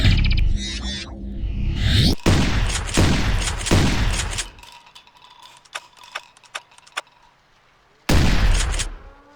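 Rapid shotgun blasts from a first-person shooter video game, double-barrel and auto shotgun fired fast under a power-up: loud dense bursts with mechanical reload clacks, then a quieter stretch of sharp ticks and a final loud burst.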